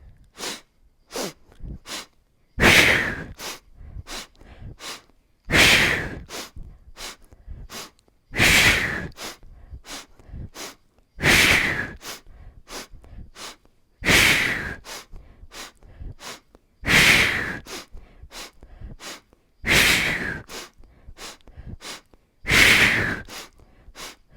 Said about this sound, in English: And when I inhale through my nose, exhale through my mouth